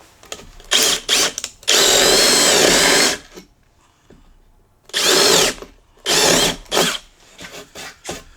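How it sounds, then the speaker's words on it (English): A drill bit bores through wood in bursts: a long sustained whine of drilling, then two more shorter runs, separated by quiet pauses and small handling knocks. "come in here with another drill bit and provide a little bit of clearance for those chips to fall through"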